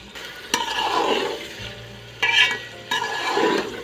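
Vegetables stir-fried in a pan for veg biryani: a soft sizzle with a few sharp spatula scrapes and clanks spaced through, close by and with no talking.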